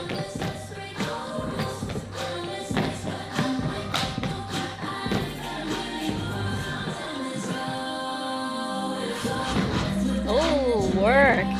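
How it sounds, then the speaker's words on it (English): Synchronized dance steps from a K-pop choreography practice: sharp taps, shuffles and thuds landing together in rhythm over backing pop music, with the beat carrying on throughout. "All these foot sounds are so satisfying."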